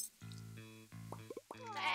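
Sheep in a farming video game bleat several times in quick succession, loud, nasal calls stacked one after another with a sharper cry at the end.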